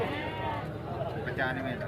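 A goat bleats at a livestock market, a wavering, nasal cry heard fairly close under ongoing talk among traders.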